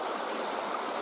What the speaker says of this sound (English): Probably pretty loud down here by the creek. It's moving along pretty good.